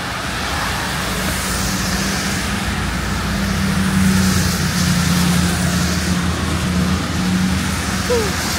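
Cars pass on a wet road beside a sidewalk, producing a continuous, moderately loud roar of traffic with one vehicle swelling nearer midway before easing off.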